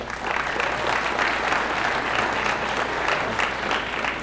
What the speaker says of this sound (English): let's get a round of applause for everyone